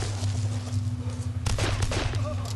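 Gunfire in the survival game DayZ aimed at a zombie, a cluster of sharp shots bursting out midway over a steady low engine-like hum and background game ambience.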